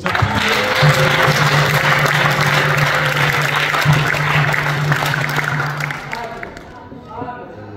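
Applause rises from a church worship and thanksgiving service, dense clapping sustained under a steady low hum before thinning out and fading near the end.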